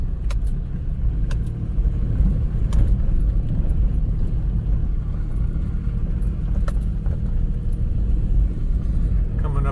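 A car climbs Patrick Creek Road, a mountain road over a toll road after a wildfire, with a loud, constant low engine and road rumble from inside the cabin and a few light rattling clicks.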